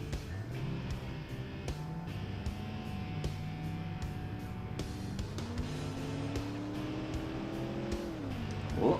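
An 80s offroad utility truck built in the game Automation drives with a steady engine drone that rises in pitch as it accelerates, continuous and fairly quiet, with occasional light knocks.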